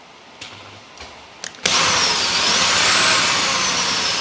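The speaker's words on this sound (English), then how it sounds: "This is how you remove a rivet. So you get a drill" A power drill bores out a rivet in a gaming PC case, starting with a few short taps and then running loud and steady at high speed, alone with no talk.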